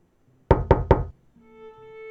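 Three quick, evenly spaced knocks on a door ring out loud and close against silence, then a faint sustained tone follows.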